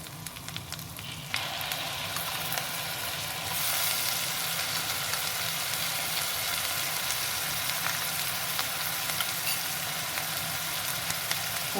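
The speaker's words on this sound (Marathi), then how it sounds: "कांद्याची पेस्ट आपल्याला जी व्यवस्थित परतून घ्यायची आहे" Onion paste frying in a pan after garlic paste, a dense continuous sizzle that grows louder after a few seconds and then holds steady and close.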